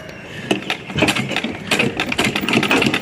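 Sewing machine stitching through the middle of a trouser design, a quick irregular mechanical patter of needle strokes close by, fairly quiet with no talk.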